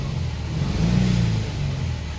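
Subaru WRX engine on a speed density tune revving up from idle, a deep rumbling rise that swells and eases back, steady and close with no talking.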